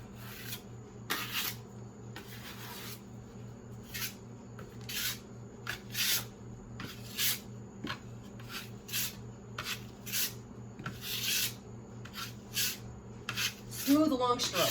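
A trowel spreads skim coat plaster across a wall in smooth, long strokes, a string of soft rasping scrapes that repeat steadily at close range over a low steady hum.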